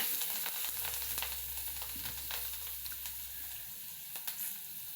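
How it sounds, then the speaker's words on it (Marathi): Finely chopped green chillies fry in a little hot oil with mustard seeds, asafoetida and curry leaves, giving a steady close sizzle flecked with small crackles and pops, with no voices. "आता बारीक चिरलेली हिरवी मिरची टाकायची आहे आणि ती आता थोडी आपल्याला फ्राय करून घ्यायची आहे"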